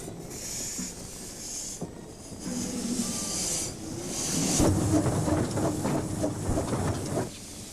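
Northern Rock, a 15-inch gauge 2-6-2 steam locomotive built in 1976 at the Ravenglass and Eskdale workshops, hisses and rumbles along, its chuffing and rail clatter growing louder as it passes close by.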